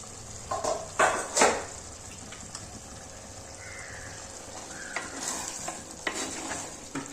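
Crab curry with cut potatoes being stirred in a masala-coated pan, a few loud scraping strokes early then softer scrapes and clinks over a low continuous sizzle, close up.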